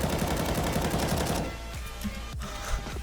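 Rapid automatic AK rifle fire in a video game gunfight, a dense rattling burst for over a second, then scattered lighter shots and clicks as the shooting tapers off.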